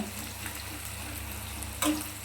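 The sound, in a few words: frying chopped onion and whole dried chili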